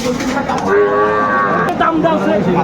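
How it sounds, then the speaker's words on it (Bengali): A cow with her calf at a rural cattle market moos loudly and close in a single drawn-out call, with voices murmuring behind it. "গাভী ও বাছুর আমরা দেখছিলাম"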